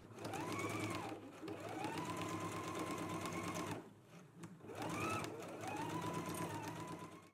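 A sewing machine stitches a pocket onto a skirt in two long, steady runs of loud, close motor hum broken by a brief pause, with no voices.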